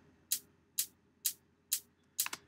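An unprocessed top kick drum sample with a thin, clicky attack like a hi-hat, struck five times at a steady, even pulse with quiet gaps between hits.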